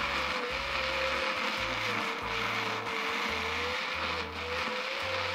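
A lens-shaped self-stirring thermal mug runs its small motor to mix a drink, giving a steady faint whirring hum throughout with a low pulsing undertone.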